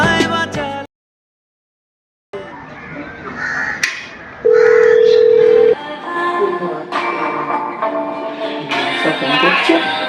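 A phone places an outgoing call, with a single sustained electronic tone lasting about a second amid busy background sounds and music.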